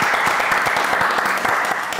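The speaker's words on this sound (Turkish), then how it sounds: "Alkışlarınızla verelim Semra Hanım hediyesini." Studio audience applauding a contestant receiving a surprise gift on a Turkish cooking competition show, a steady dense clapping that fills the whole moment at close range, with no voices over it.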